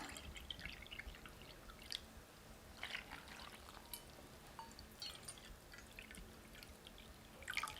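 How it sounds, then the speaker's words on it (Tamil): Water trickles and drips into a bowl of cornflour in quiet, scattered splashes, soft and close. "இதுலேயே ரெண்டு கப் அளவுக்கு தண்ணி சேர்த்துக்கலாம்"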